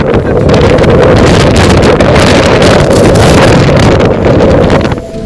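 Typhoon Haishen battering Busan: roaring, sustained wind buffeting the microphone with heavy rain, loud and unbroken for several seconds before easing slightly at the end.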